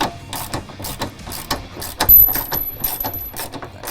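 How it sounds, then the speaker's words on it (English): A ratchet with a 15mm socket on an extension clicks in quick repeated bursts while tightening the corner bolts of a replacement fuel tank on a 2000–2016 Ford Powerstroke cab chassis, sounding close and mechanical. "you can tighten all 4 corners down"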